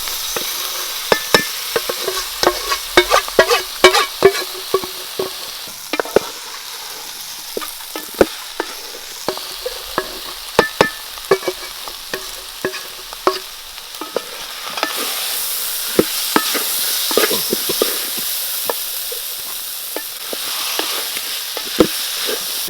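Pre-cooked beef fries Kerala style in a pan, stirred with repeated sharp scraping clicks over a constant sizzle that grows louder and fuller toward the end.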